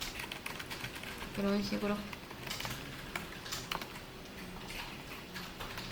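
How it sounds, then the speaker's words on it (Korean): Computer keyboard keys pressed while the Shift key is held, a quick run of light clicks under a man's speech, with quieter clicks scattered through the rest. "Shift 누른 상태에서 키보드를 왔다 갔다 하면은 이렇게 드래그도 가능합니다."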